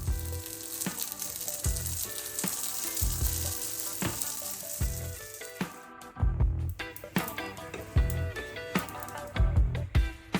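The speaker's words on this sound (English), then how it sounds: "And fry on all sides." A sushi-burger onigiri coated in sesame or flax seeds fries in a pan with a steady, close sizzle, broken by recurring bursts of crackling as it is moved and turned.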